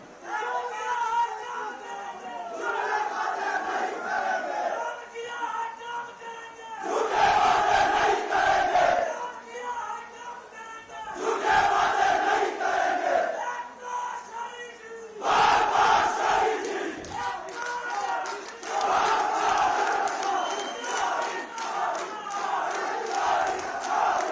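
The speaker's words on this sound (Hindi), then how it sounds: "जोरदार तालियों के बीच" A large crowd at an outdoor fairground celebration in Banjar, Himachal Pradesh, roars and shouts together in long, loud, repeated bursts separated by brief lulls.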